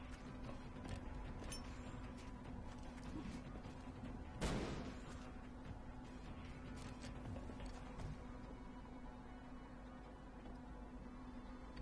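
A flashbang grenade in XCOM: Long War goes off in a single sharp, booming burst midway through, set against a steady low game ambience and faint scattered clicks.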